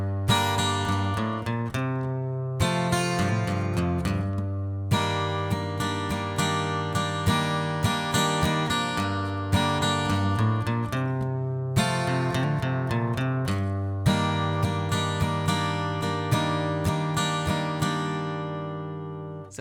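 A guitar plays the intro riff of a song, with strummed chords and single-note fills in a steady rhythm and brief pauses between phrases, close and prominent with no voices.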